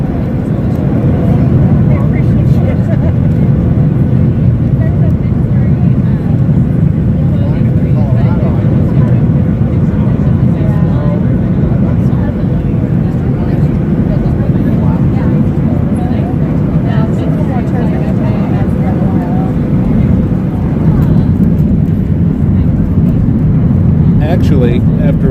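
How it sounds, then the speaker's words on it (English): Airliner cabin noise as a plane lands and touches down at Las Vegas, a constant loud low engine and airflow rumble throughout, with voices talking faintly over it. "a smooth, perfect touchdown."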